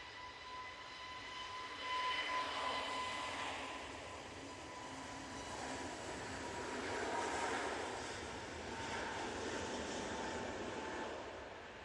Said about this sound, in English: And there's our next departure. So, Jet2 A321 Neo.